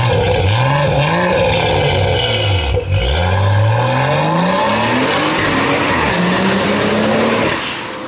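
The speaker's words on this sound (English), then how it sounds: "the turbo blow off noise" BMW M140i with a Stage 3 tune revs hard under acceleration, its loud, close engine note sweeping up and down through gear changes, with turbo blow-off whooshes between pulls and no speech.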